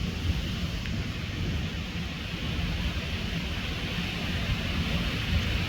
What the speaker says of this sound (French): Il y a un orage qui est en train de se former au-dessus de chez moi les amis.